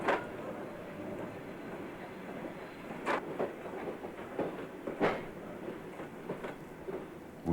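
A passenger train on the Trans-Siberian journey rolls along the rails, with a steady rumbling run broken by periodic loud clickety-clack wheel beats over the track joints.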